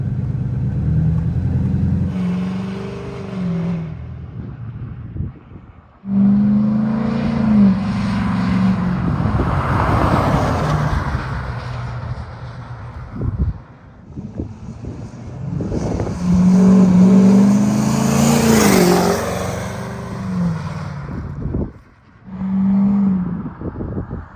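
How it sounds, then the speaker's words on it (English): A 2006 LBZ Duramax diesel pickup truck engine rumbles steadily and loudly, rising and falling as it revs and drives, with a brief lull partway through. "so we're driving the truck now and it's driving pretty good"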